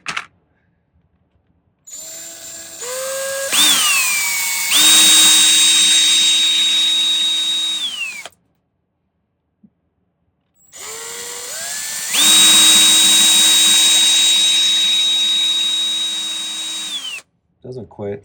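A rotary drill reaming a hole in a handmade silver pendant at a jeweller's bench whines in two long bursts, each spinning up with a rising pitch and holding steady for several seconds, with brief silence between the runs.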